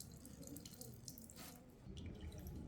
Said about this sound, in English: that'll just let me squeeze out all of the water that's in there.